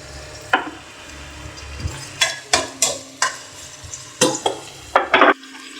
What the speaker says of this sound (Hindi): सबसे पहले आपने प्याज गोल्डन कर लेना है